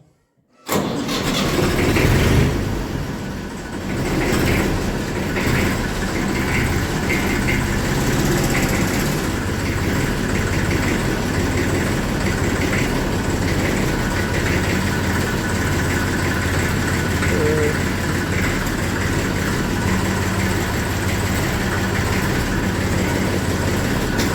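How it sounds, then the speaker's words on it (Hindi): A tractor engine fires up and settles into a loud, steady idle, chugging on unchanged for over twenty seconds with no talk. "थोड़ी देर स्टार्ट ही रहने देंगे, क्योंकि जब तक पूरे ट्रैक्टर का सारा आगे पीछे का आवाज़ नॉर्मल ना हो जाए"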